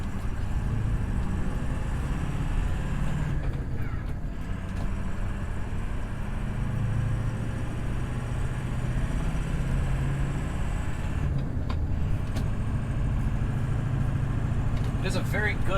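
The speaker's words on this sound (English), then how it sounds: "so you guys can get a feel of the cabin noise and engine noise" Steady diesel engine drone and road rumble heard from inside the cabin of a Ford F-350 diesel pickup with a 6-speed manual, continuous and moderately loud, with occasional brief clicks and shifts in pitch.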